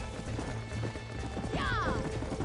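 Horses in the Western video game Red Dead Redemption clop steadily along with game ambience, a whinny rising briefly near the end, while a voice talks faintly underneath.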